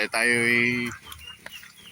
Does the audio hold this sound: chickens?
yes